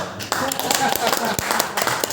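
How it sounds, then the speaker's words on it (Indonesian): An audience at a teacher training session in Lampung claps in a short burst of scattered, close claps, mixed in with talking from the room. "Tepuk tangan dong untuk saya."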